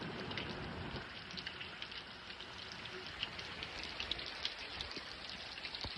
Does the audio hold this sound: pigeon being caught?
no